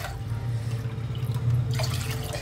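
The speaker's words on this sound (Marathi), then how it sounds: "पाणी घालत आहे" Water poured into a cooking pot for sabudana papad batter, a steady continuous splashing stream in a home kitchen that brightens and grows louder near the end.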